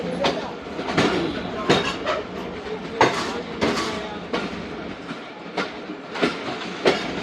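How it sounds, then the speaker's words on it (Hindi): The 7 Up Tezgam express leaving Nawabshah railway station: rhythmic clickety-clack of the wheels over rail joints, heard from on board, with sharp regular knocks above a steady rumble. "दोस्तों 10:42 पर 7 अप तेज़गाम रवाना हो चुकी है"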